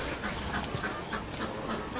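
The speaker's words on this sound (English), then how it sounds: "And there's Mama with the duckies." A mother duck with ducklings on a muddy farm gives a few soft quacks amid faint outdoor background noise.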